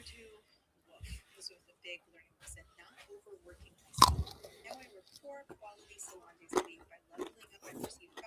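Crispy pork belly skin being bitten and chewed close to the microphone: sparse, sharp crunches with one loud bite, separated by quiet pauses and soft mouth sounds.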